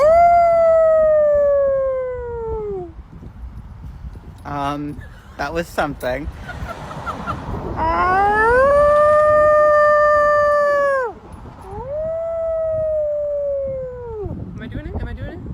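A person imitates a wolf howl, drawing out long wavering vocal howls that rise and fall, several in a row, broken by short laughter and a brief spoken remark.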